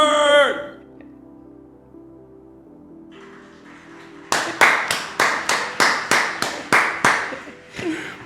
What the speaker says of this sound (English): can we give a round of applause to Samantha Lee